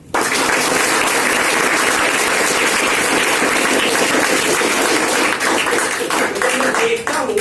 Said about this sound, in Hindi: उनके हिम्मत के लिए एक बार तालियां बजाएं।